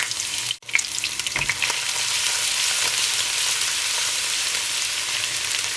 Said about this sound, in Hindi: ऑयल गर्म हो चुका है और इस स्टेज पे आके मैं इसमें फ्रेश गार्लिक ऐड कर लेता हूँ।